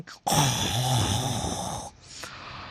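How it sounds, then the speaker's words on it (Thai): A lion's loud, rough, growling roar with a rumbling low pitch, sustained for over a second, then tapering off. "เสียงขู่คำรามก็ดังกึกก้องขึ้น ทั่วบริเวณนั้นเสียงอันดุร้ายของราชสีจอมโหดนั่นเอง"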